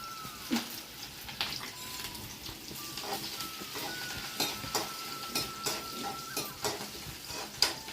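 Onions and green chillies sizzle and fry with spices in a pan for a Telugu-style prawn fry, with a spoon repeatedly stirring and scraping the metal pan, close and steady.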